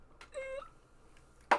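A pet cat meows once, a clear drawn-out mew at close range in a quiet room, followed by a brief rustle at the end.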